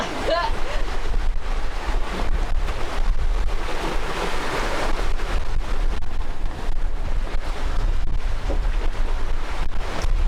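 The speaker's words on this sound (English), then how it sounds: "Big old rollers, big old waves." Big ocean waves roll and wash continuously around a sailboat in stormy weather, with steady wind rushing over the microphone and no break in the roar.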